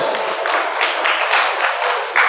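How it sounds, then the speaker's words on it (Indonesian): Worshippers at an Isra Mi'raj sermon in a mosque clap together in a brief, uneven burst, a loose patter of hands rising and dipping with a sharper swell near the end and no talk on top. "Tepuk tangan dulu Bu"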